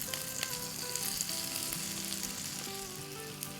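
A stuffed egg roll fries in a pan on the stove, giving a steady close sizzle with small crackles and pops throughout and no talking.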